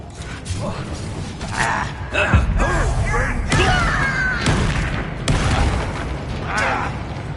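Confringo blasting spell bursting in Hogwarts Legacy combat, a booming explosion amid continuous battle noise with thumps, creaks and swooshing magic effects, loud and dense, with character voices shouting over it.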